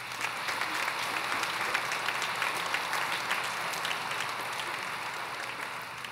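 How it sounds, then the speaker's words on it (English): Steady, moderately distant applause from a large audience at an elementary all-county concert, honoring school administrators, an even dense patter of many hands without a break. "So please, a round of applause for them."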